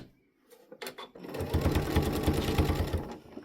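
A sewing machine top stitching a quilted mug rug starts with a few hesitant clicks, then runs in a fast, steady, close mechanical rattle that continues to the end.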